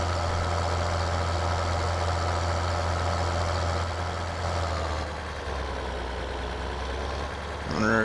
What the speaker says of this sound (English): Tractor donuts.